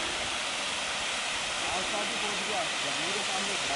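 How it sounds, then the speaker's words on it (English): Bhimlat waterfall in Rajasthan, India, pours as a steady broadband rush of falling water, continuous and fairly loud throughout, with faint voices murmuring in the background. "Might be the highest waterfall in India."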